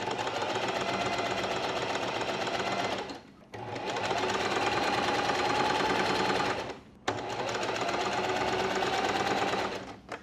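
A sewing machine runs a long gathering stitch along fabric in three steady bursts of rapid, even mechanical clatter, with two brief pauses between runs; close and alone.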